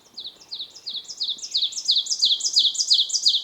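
A loud, close ovenbird song of rapid repeated phrases, rising in volume and running continuously across the whole stretch, with no talk.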